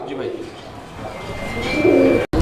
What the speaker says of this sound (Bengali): এখানে একটা সিঙ্গেল কবুতর আছে পোটার কবুতর এটা মাদি